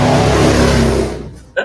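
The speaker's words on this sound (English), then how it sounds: "good Motorcycle" A motorcycle engine revs loudly and close by, a sustained roar that falls away after about a second, followed by a brief burst of voice.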